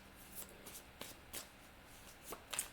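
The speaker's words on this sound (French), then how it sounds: "Je vais prendre une carte de Phantom." Quiet card handling as a tarot card is drawn from a deck, with soft papery slides and light flicks in a few short bursts, close but faint, no talking.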